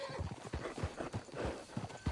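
Horse hooves clip-clop across open ground in Red Dead Redemption 2, a quick uneven run of close, loud strikes with a brief whinny mixed in.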